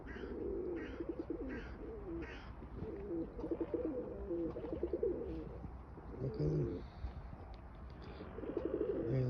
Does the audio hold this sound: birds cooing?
yes